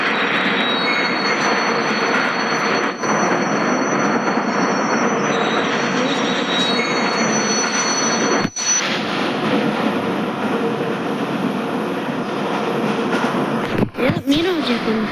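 A train rolls past in the India Bike 3D video game, a loud continuous rumble with squealing wheels and a steady high whine, broken by a couple of sharp clunks near the end.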